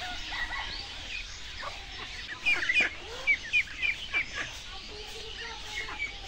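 Chickens kept in small coops on a village homestead cluck and cheep in short, scattered bursts at close range, against quiet background noise, with a person talking faintly around them.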